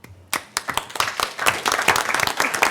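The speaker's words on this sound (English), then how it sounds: "Applause." Clapping breaks out at a county board meeting, starting abruptly after a short pause and building into a dense, uneven round of applause from a modest crowd.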